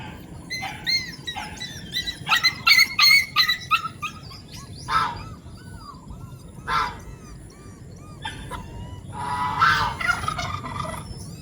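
A black male turkey gobbles in loud, rapid rattling bursts up close, then calls again more sporadically over a faint background murmur.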